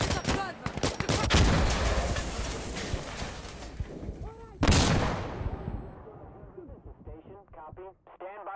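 Air strike strafing run in the Insurgency: Sandstorm video game at night on the Power Plant map, a long loud roar of rapid impacts and blasts that surges again midway, then fades into scattered sharper crackles with a voice briefly over the din.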